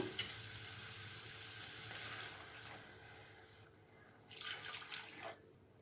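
Food sizzles in a hot pan while making tomato kurma, then water is poured in and bursts into a louder hiss and bubbling.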